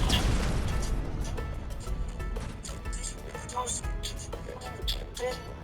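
Explosions in Goat Simulator 3 pop and boom repeatedly at moderate volume, layered over busy game noise without any clear talk.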